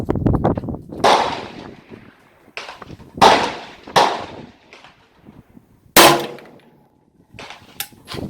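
Rifle shots on a range while zeroing a scope, likely an Extar EP45 with a Primary Arms optic: about six loud cracks with rumbling echoes, spaced a second or more apart, with faint handling noises between.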